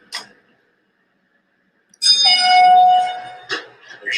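A bell rings out loud and close, one sharp strike followed by a sustained ringing tone with a couple of further strikes, after a short hit and near silence.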